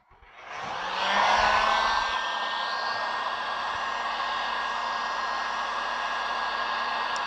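A hot air blower drying out moisture trapped under window tint film starts up and settles into a steady, loud whooshing roar with a constant motor hum, running alone without talk.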